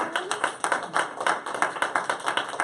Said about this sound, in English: if we can give her another big round of applause